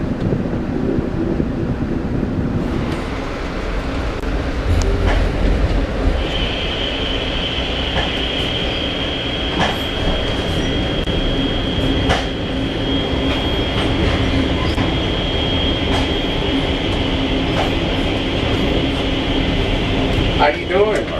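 A passing train on the Amtrak Crescent route rumbles steadily close by for about twenty seconds, with a sustained high whine joining partway through, under wind buffeting on the microphone.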